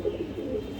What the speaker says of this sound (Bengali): এটা হচ্ছে আপনার রেড চেকার আইসবার দামাসিন